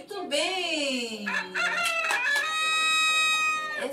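A rooster crows loudly and close up, one long cock-a-doodle-doo with a rising and falling call that ends in a sustained strained note, heard alone and clear in a children's animal-sounds context.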